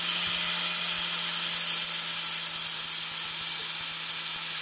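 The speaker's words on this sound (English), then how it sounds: "You load this up into your drill." A handheld drill runs steadily while sharpening a tungsten electrode for TIG welding stainless steel, giving a continuous high whine with a low steady hum underneath, close and even, with no talking.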